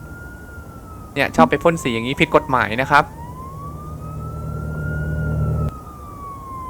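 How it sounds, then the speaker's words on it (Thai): A police car siren wails steadily at a city intersection, a sustained rising and falling tone running under a man's speech and continuing alone after he stops. "เนี่ยรถตำรวจมาละ"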